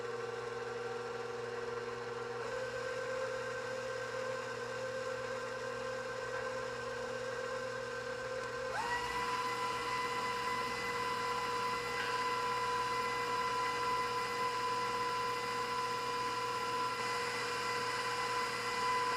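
An electric pasta machine rolls pasta dough, giving a steady whining motor drone with a constant hum. The pitch shifts partway through as the load changes, and it runs on close and even with no speech.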